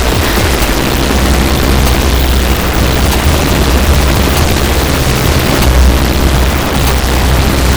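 A dense, loud, continuous drone from a Manic effects pedal, a thick wall of noisy distorted tone with a heavy low end, sustained without a break and with no talking.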